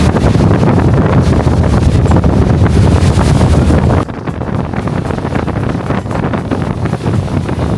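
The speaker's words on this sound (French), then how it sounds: "Il y a un peu de vent." Steady, loud wind buffeting the microphone on an Okinawa beach, a continuous roar with a slight drop in level midway, no voices.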